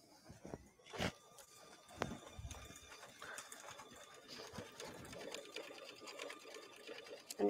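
A Brother Luminaire sewing machine threaded with black thread stitches quietly, giving off intermittent whirring and light mechanical clicks with no talk over it.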